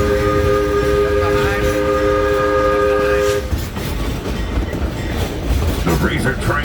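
A train on the Georgetown Loop line near Silver Plume sounds a long, loud sustained whistle or horn blast for about three and a half seconds, then the rolling clatter and rumble of the moving cars carries on close by.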